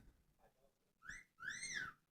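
A parrot whistling two bright, rising whistled notes, the second longer and sliding, after a faint murmur near the start.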